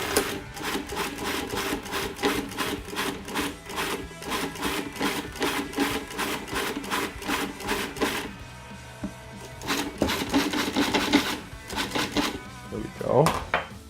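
A food processor rough-chops kalamata olives for tapenade in rapid rhythmic pulsing bursts, pausing briefly and then resuming, with the clatter of the blade and bowl close up.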